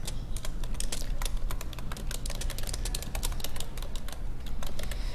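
Fast, steady typing on a computer keyboard, dense close key clicks running throughout with no talking, while notes are written.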